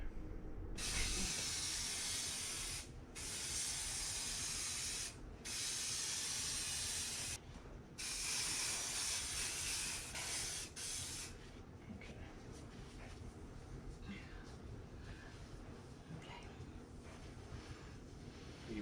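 A loud, steady hiss of adhesive spray from a can bursts out in several long blasts with brief gaps, then stops, leaving quieter background rustle, while redoing the headliner of a 1988 Chevrolet Suburban.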